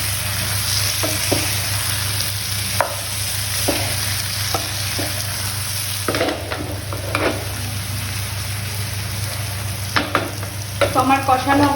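Boiled potato and jackfruit curry stir-fried in a pan, a steady sizzle with repeated scraping stirs of the spatula, busier clatter near the end.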